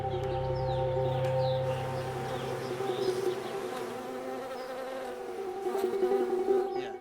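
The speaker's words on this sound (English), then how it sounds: "Every spring, billions of bees are brought here to help pollinate the almond trees." Bees swarm around almond trees in spring orchards, a dense continuous buzzing drone with individual insects passing close, fairly faint and with no talk.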